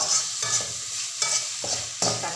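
Tomato and green chilli with curry leaves being stirred in a hot frying pan for a yam roast, with steady sizzling and repeated scraping strokes of the spoon at a close, even pace, no talk.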